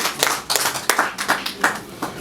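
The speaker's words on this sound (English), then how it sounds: "Charles a round of applause." Applause from an audience at a business presentation, with a few distinct, rhythmic claps standing out close by over a thinner spread of clapping.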